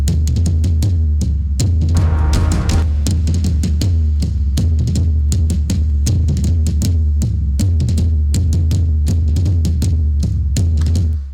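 Drums, including toms, run through a wave shaping distortion plugin at heavy setting, giving punchy, gritty repeated hits in a steady rhythmic pattern, loud and upfront with no talking.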